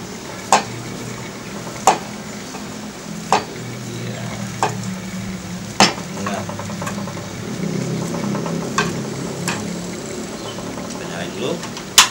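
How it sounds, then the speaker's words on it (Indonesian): A chicken nugget mixture is stirred and squeezed by hand, giving a soft, wet, continuous churning close up, broken by occasional sharp clicks of a bowl or utensil at fairly regular intervals. "Saya aduknya yang pakai tangan ya."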